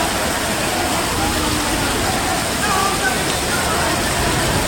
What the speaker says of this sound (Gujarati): આ પાણી આ ડબ્બા જાય છે।